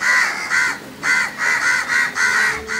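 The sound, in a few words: crow cawing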